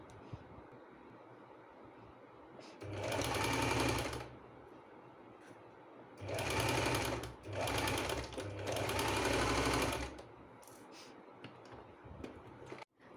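Sewing machine stitching a sleeve near the edge where buttons will go, running in several bursts of fast, steady whirring, one long run, then two more in quick succession, with quiet pauses and faint handling noise between them.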